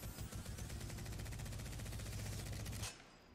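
An automatic weapon in Titanfall 2 fires a steady, even stream of shots for nearly three seconds, then cuts off abruptly; the rhythm is regular and the sound sits fairly far back in the mix.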